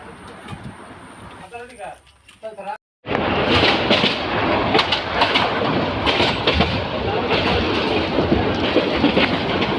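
A train rumbles and clatters loudly, wheels clacking on the rails, after a brief quieter stretch with a faint high whine and a moment of silence.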